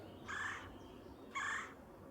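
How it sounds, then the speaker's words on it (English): A downy woodpecker calls twice, each a short harsh nasal note about a second apart, faint and somewhat distant in a quiet outdoor setting. "Sounds like a downy woodpecker."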